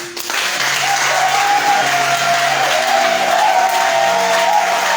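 Sustained applause from a church audience fills the hall, loud and continuous with crowd noise, steady throughout.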